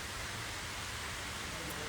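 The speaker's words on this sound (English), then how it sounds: "Yup, it's a real rain." Real rain falls outdoors onto a large 6000-gallon outdoor aquarium pond, making a faint, even, unbroken hiss throughout.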